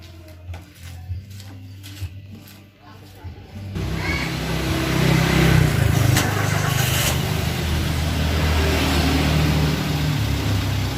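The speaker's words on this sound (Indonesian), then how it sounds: "kita akan hidupkan ini mesinnya, suaranya seperti apa" A Toyota Avanza, fresh from an oil change and said to need an engine overhaul, cranks and fires up after a few quiet seconds, then settles into a steady, rumbling idle close by.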